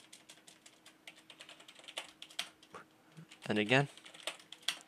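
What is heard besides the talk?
typing commands on a computer keyboard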